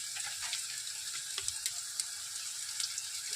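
Onion fries in a pan with a quiet, steady sizzle, dotted with small pops and a few light stirring clicks, close and faint with no voices.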